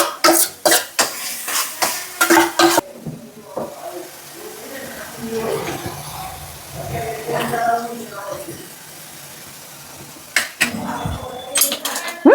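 Metal utensils clatter and scrape in a pan with intermittent stirring and a faint sizzle, while a person talks in between.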